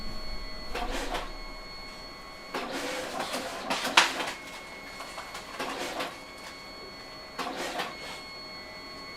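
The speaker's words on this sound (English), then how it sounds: "I'm going to start pulling photos off the printer here." A photo printer feeds and prints photos for an outgoing session order, giving repeated mechanical whirring passes with pauses between, fairly close and moderately loud over a faint background hiss.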